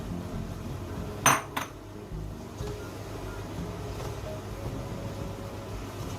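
Mixed mushrooms being stirred into tomato in a pan, with a sharp clink of a utensil against the metal near the start and then soft scraping over a steady low background rumble, nearby and without talking.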